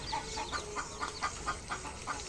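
Native chickens clucking in a yard near a coop, a run of soft repeated clucks at a fairly even rhythm, moderately close but quiet over low background noise.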